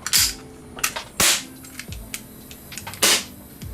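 Several sharp metallic snaps and clanks from an airsoft pistol slide springing forward, with a secondary clank from a weak spring, a few seconds apart, each with a short ringing tail, close by and fairly loud with no talking.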